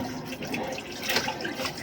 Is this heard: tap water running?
yes